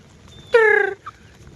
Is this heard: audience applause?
no